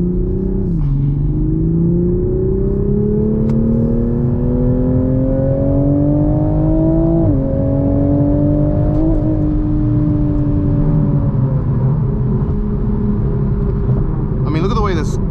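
A 2021 Toyota A91 Supra's turbocharged engine pulls hard on public roads, its loud, steady drone climbing in pitch through several gears with brief dips at each shift, heard close from inside the cabin.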